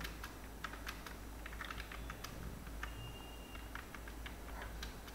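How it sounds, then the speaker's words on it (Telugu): Keys on a computer keyboard tap away in quick, irregular bursts of clicks, close and fairly quiet, with no voices over them. "సో ఫర్ ఎగ్జాంపుల్ నేను ఒక టెక్స్ట్ టైప్ చేస్తున్నాను"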